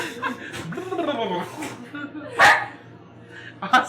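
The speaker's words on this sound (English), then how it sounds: "You disturbed the doggy." A pet dog barks and yips nearby, with a sharp loud bark standing out while people talk and chuckle around it.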